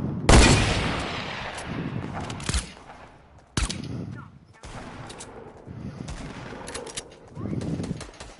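Gunfire in a Fortnite match, sharp shots cracking out at irregular intervals with a couple of louder bursts near the start and middle, surrounded by constant game ambience and occasional speech.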